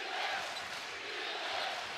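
A college basketball arena crowd cheers loudly and steadily at a game between Alabama and Mississippi State, a broad sustained roar heard from within the stands.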